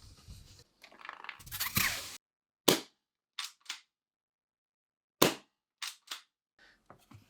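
G&G LevAR airsoft rifle fired at 120 psi with 0.45 gram BBs, a handful of sharp, loud single cracks spaced irregularly after some handling noise, close up with silence between.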